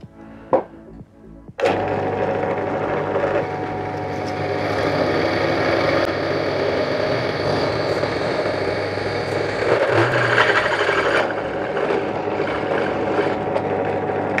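A Ryobi RDP102L drill press starts with a click and spins up, then runs steadily at close range, whirring and droning as a 13 mm bit drills, with the load shifting slightly partway through.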